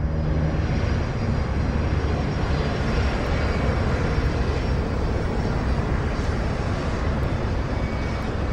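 Crossair Flight 3597, an airliner cruising at 27,000 feet above Germany, gives a steady, dense engine and airflow roar that holds constant and loud throughout with no breaks or voices.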